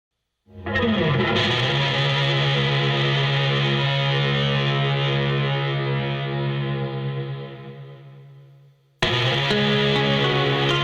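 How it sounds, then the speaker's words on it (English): A sustained, thick distorted electric guitar chord rings out with a doubled, chorus-like width, fades, then cuts back in sharply near the end. "just listen to it with that automatic double tracking and hard pan to the right"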